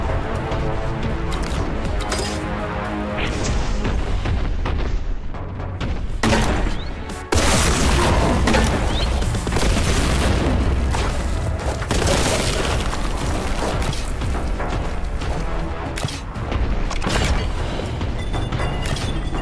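Grenade explosions in Warhammer 40k Boltgun, dense heavy booms and crashing debris stacked over loud continuous gunfire and game noise, with a sharp surge of blasts partway through, close and loud with no talk.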